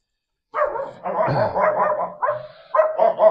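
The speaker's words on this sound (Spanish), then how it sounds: "Vale, tenemos aquí los perritos." Several dogs bark and yip in short overlapping bursts near the Karnak temple in Egypt, loud and close, with a brief whimper.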